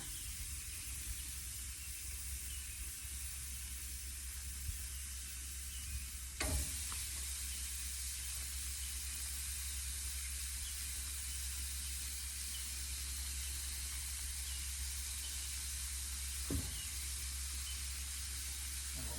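Quarter-pound ground beef burger patties sizzle on a Blackstone griddle, a steady close-up hiss and crackle that runs throughout, with a couple of brief knocks partway through and no talking.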